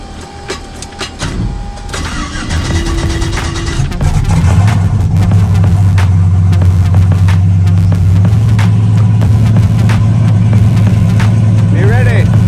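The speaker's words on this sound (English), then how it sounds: "Do you think the car's gonna start?" A car engine cranks, catches and settles into a loud, steady idle close by, its low drone continuing under scattered clicks and knocks, with people talking over it.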